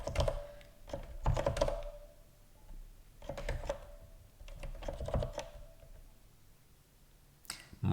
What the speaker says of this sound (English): Oh, the keyboard.